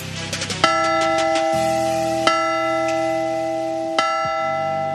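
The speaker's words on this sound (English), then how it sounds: "ring tonight's ceremonial mission bell" A ceremonial mission bell rings at a Reds vs Padres baseball pregame, three loud metallic strikes roughly a second and a half apart, each leaving a long sustained ringing tone.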